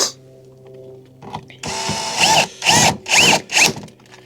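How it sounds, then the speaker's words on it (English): A power driver drives a 7mm bolt into the front grille of a 2020 Ford F-150, starting with a short whir and then giving several loud, close bursts of rising and falling motor whine with brief pauses between them. "And then you take your 7mm bolt and screw it right back in."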